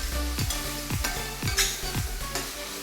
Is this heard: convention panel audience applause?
no